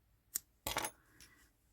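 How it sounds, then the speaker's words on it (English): Scissors give a little snip to yarn on a crocheted googly-eyed taco: a quick click followed by a brighter, slightly longer cutting snip and a faint trailing rustle, close and quiet. "you'll just give that a little snip with the scissors"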